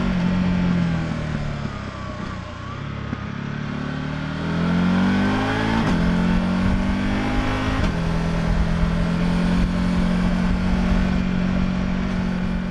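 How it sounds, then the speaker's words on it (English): Harley-Davidson Pan America 1250 Limited adventure motorcycle with a 152 HP engine, accelerating loudly and close by, its engine note rising through the gears with intake roar, and the pitch drops at each shift. "noticeable intake noise under acceleration, and under load, the sound character is more than okay"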